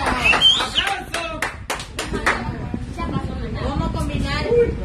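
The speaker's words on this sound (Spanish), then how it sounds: "¡Aplauso!" A few people clap in short bursts during a lively Salvadoran vlog-style scene, sharp close handclaps in loose clusters mixed with loud talk and shouting voices.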